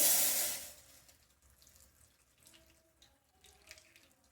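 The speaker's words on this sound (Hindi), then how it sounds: "अब इनमें हमें डाल देना है गरम पानी" Hot water is poured over tamarind to make banana chutney in a home kitchen: a loud, close splashing pour lasts about half a second, then fades to a faint trickle and quiet handling.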